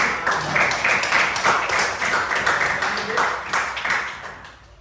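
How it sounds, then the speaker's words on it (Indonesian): A group of children claps together in a rhythmic, fairly loud round of applause in a classroom that fades out toward the end. "Anak-anak kita tepuk tangan untuk anak."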